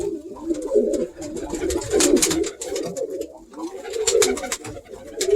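Several loft pigeons coo steadily in soft, rolling low calls that overlap near at hand, broken by short bursts of flapping and shuffling.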